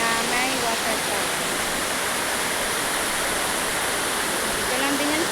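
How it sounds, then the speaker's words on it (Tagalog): A waterfall on a river in Clear Water Bay swollen after heavy rain, a steady broad rushing roar close by, with faint voices at the edges. "So, isa siyang ilog na may waterfall."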